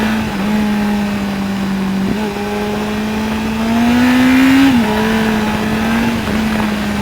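A large motorbike accelerates along a hedge-lined country road, its engine droning loud and close, pitch climbing, easing and climbing again through the bends.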